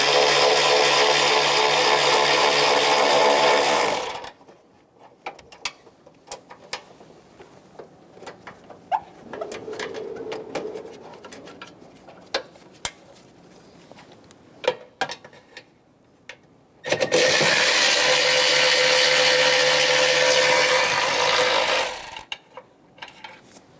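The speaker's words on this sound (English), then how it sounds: "To remove this inboard bolt, I broke it free using a 1/4 inch flex head ratchet" A 1/4 inch flex head ratchet clicks as it backs out bolts on the AC condenser of a 2014-2018 Chevrolet Silverado, quick close ticking and small metallic knocks set between two long loud stretches of broadband noise.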